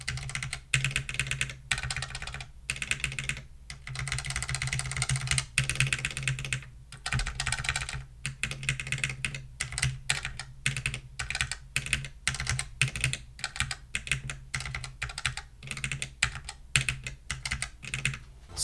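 Mechanical keyboard with Kailh V2 red and crystal switches clacks through continuous fast typing with brief pauses, close and crisp over a low background hum, no speech.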